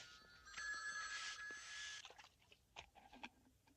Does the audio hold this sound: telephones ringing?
yes